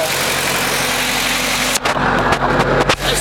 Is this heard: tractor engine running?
yes